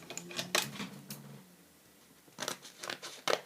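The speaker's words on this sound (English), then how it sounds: "I'm going to grab the scissors and cut that side from there across." Scissors snip through paper while a book is being made: a few crisp, close cutting and crinkling sounds in short bursts, a brief pause, then more quick snips, all quiet and without talk.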